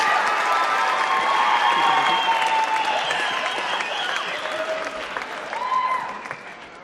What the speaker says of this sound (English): How about another round of applause for some of our past Miss Lehis?